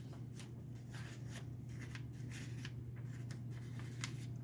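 Paper being trimmed with scissors makes faint, repeated crisp snips in an irregular rhythm over a steady low hum, with no talk.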